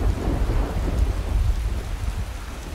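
Steady rain pours with low rumbling thunder rolling underneath in the Skyrim video game, a dense continuous storm with no one talking.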